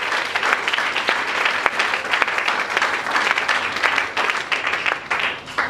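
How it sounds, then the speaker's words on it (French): A church congregation applauds loudly during a Sunday service, dense continuous clapping from a large crowd that fills the whole stretch. "Acclamons très fort pour le Seigneur Jésus."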